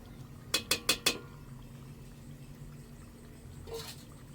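Fried chicken in yogurt tipped into a pot of nihari masala: four quick metallic clinks of utensil against the pot in fast succession, then quiet kitchen background with one softer scrape near the end.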